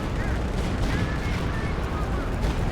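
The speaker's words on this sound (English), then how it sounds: "And there is Stuka with another barrage." A Stuka dive bomber barrage in a World War II strategy game, heard as a dense continuous rumble of distant explosions and gunfire filling the whole clip, with a commentator's voice faintly under it.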